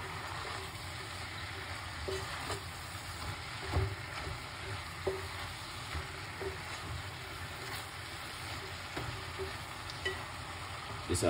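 Vegetables seasoned with black pepper sizzle steadily in a hot pan, a continuous close frying hiss with faint clicks of stirring scattered through, no voices.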